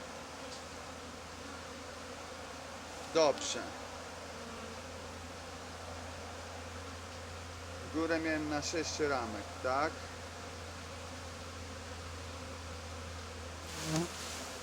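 Honey bees hum at an open hive while colonies are being combined, a steady low drone throughout with someone talking briefly in between.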